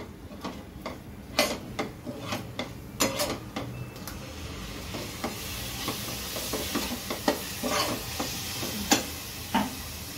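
Onion, ginger, garlic and chilli paste fries with dry spices and curd, giving a continuous close sizzle dotted with irregular sharp crackles and pops throughout; no voices are heard.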